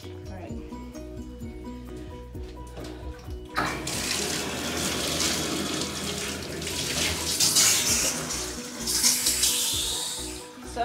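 Running tap water filling a bathtub while a dog is washed, a broad steady gushing rush starting abruptly after a few seconds of quiet, close, with someone talking over it.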